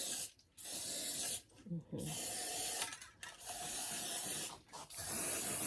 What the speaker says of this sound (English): A little bit more gray spray.